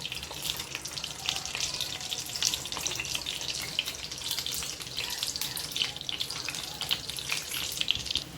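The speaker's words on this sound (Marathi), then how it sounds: "आता हे आपण फ्राय करायला घेऊया शेलो फ्राय करायचे आहेत पॅनमध्ये" Chole tikki shallow fry in a few spoons of hot oil in a pan, giving a steady, dense sizzle with fine crackling pops throughout, close and continuous.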